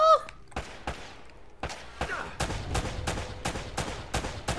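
Gunfire in Uncharted: Drake's Fortune: a sharp opening crack, then a string of loud, evenly spaced shots cracking about twice a second, close and punchy with echoing tails.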